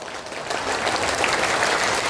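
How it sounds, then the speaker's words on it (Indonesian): A seminar audience claps on cue at a quickening pace during an Islamic parenting seminar. The fast, dense clapping rises slightly and then stays steady for the couple of seconds it lasts, with no speech over it. "ayo kita tepuk tangan"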